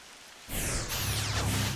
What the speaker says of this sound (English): Oh man, it started raining in the same plateau.